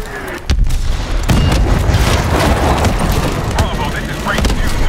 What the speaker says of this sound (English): What was that? Pressure explosion.